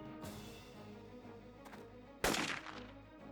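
A single gunshot rings out in the turn-based tactics game Jagged Alliance 2. It is one sharp, fairly loud crack with a short decay over a quiet hum of background sound.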